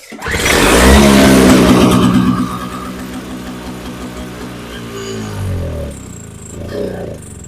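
A Toro CCR2000E snowblower engine with a running fault pulls over and catches with a loud burst, revs high, then settles into an uneven, sagging idle that rises and dips as if struggling to keep running.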